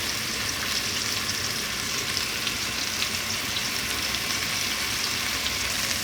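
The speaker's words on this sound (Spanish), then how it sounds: "A los 5 minutos vamos a voltear el pollo para que se dore del otro lado." Chicken pieces frying in a pan after being turned to brown on the other side, giving a loud, dense, continuous sizzle that stays steady throughout, close up, with no voices.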